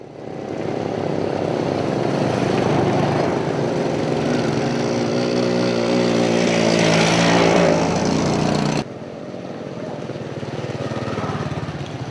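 Motorbike engine droning steadily on hill roads in Sapa, Vietnam, loud and close with wind rush, the pitch rising and falling slightly before the tone drops abruptly near the end.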